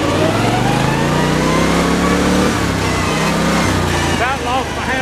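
A vehicle's big 1724cc engine pulling steadily in sixth gear, a loud, continuous droning hum with slight pitch shifts as it keeps rolling, with a voice heard over it.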